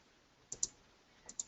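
A computer mouse gives a few quiet, crisp clicks in a quiet room: a quick pair of clicks, a pause, then another pair.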